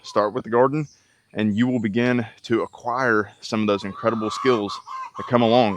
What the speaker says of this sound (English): Start with the chickens, as you can hear them in the background.